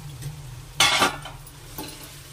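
Tomatoes and a lemon-sized lump of tamarind cook in a pan for tomato-coriander chutney, with a soft sizzle broken by one loud stirring scrape and a fainter second one near the pan.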